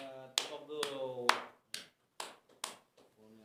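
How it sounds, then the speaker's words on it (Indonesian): A few sharp hand claps ring out one at a time, near and fairly loud, with a voice talking in between during a casual chat show. "Tepuk dulu."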